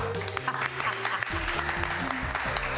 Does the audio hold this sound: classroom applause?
yes